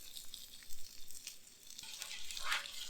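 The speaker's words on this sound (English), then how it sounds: "we're going to look at our butter, which is looking actually really good. So it's melting down there. I'm just stirring it around." Butter melting on a Blackstone flat top griddle gives a faint, soft sizzle with light scraping as it is stirred around, quiet and close with no voices.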